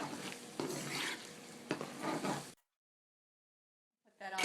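A spoon works through a pan of sloppy joe mixture seasoned with cayenne, giving about two and a half seconds of close, scraping stirs before the sound cuts to silence, then a short sharp burst right at the end.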